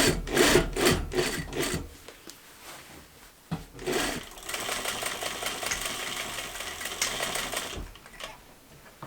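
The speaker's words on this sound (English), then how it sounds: "I'm just going to stitch in the ditch to secure it down." Sewing machine stitching in the ditch along a pants waistband: a steady whirring run of stitching after some handling noises and rubbing of fabric, close by, with no voices.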